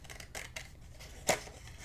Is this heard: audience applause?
no